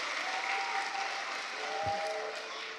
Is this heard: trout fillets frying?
no